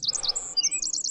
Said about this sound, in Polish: Ptaszki ćwierkają.